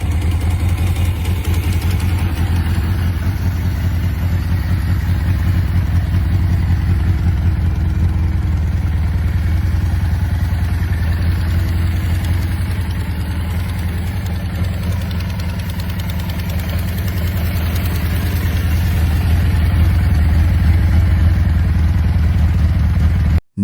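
A classic motorcycle engine idling, a loud steady low-pitched rumble with a fast even knocking pulse that holds for over twenty seconds before cutting off abruptly, no voices.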